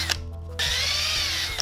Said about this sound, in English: I followed that up with a 1/4" drill, way too close to my fingers, and then a 5/16" bit to create the final hole.